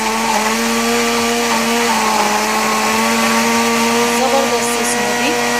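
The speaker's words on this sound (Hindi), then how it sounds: "अब हम इसे ब्लेंड करेंगे" A kitchen blender whirs steadily, loud and close, as it blends a keto smoothie with half a glass of water added, a continuous motor drone with a few faint background sounds.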